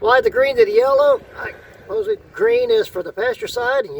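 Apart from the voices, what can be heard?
No everyday noise stands out behind the speech.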